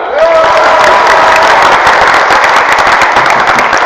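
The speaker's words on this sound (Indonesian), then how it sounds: "Tepuk tangan dulu ya, Pak." A group clapping hands together at an Indonesian gathering, a loud, dense, continuous patter filling the whole stretch at close range.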